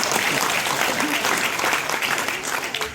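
An audience at a Korean book-launch event claps steadily as lawmakers come up on stage, a dense, even wash of applause filling the room for the whole stretch.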